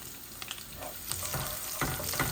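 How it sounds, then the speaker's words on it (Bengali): Garlic sizzles and fries in hot oil in a pan, a steady crackling hiss that swells in bursts as it is stirred, close and alone. "রসুনগুলো একটু লাল লাল হয়ে যাক তারপরে পেঁয়াজ"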